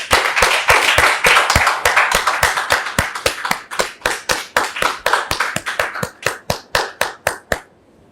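An audience claps to welcome a father and son as guests, a rhythmic burst of crisp, evenly spaced claps in unison that gradually thins and trails off near the end.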